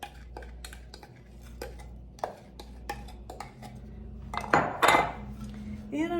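A utensil spreads and presses a pumpkin dessert mixture into a 9x13 baking pan, giving irregular metallic clinks, taps and scrapes close by over a low background, with a louder cluster of scraping near the end.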